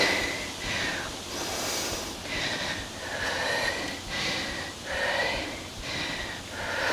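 Slow, rhythmic breaths, each a soft airy inhale-exhale hiss repeating about every second, faint and close, alone without talk during a yoga balance pose.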